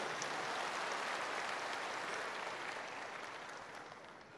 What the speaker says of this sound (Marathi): एकदा सगळ्यांसाठी टाळ्या वाजवा